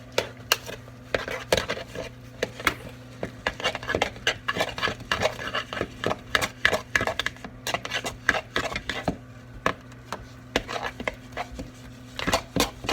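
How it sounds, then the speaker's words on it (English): A food mixture being stirred in a bowl with a utensil, producing a steady run of light clinks and scrapes against the bowl at close range, with no talking. "Stir these up a tiny bit."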